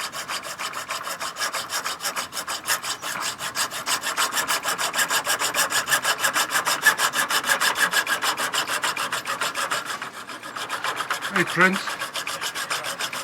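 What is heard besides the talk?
hacksaw cutting cabinet legs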